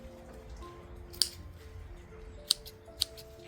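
Three sharp snips of shears trimming a thuja shrub, spaced apart and close by, over a quiet background with distant birdsong.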